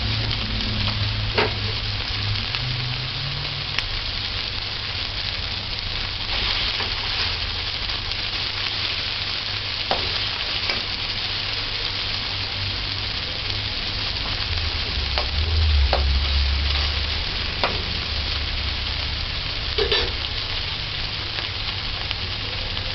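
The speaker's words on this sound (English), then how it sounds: "Just allow it to fry on flame high, same way." Onion frying on high flame in a pan for a cabbage and fish stir-fry, a loud steady sizzle and crackle with occasional sharper pops, close up and continuous without speech.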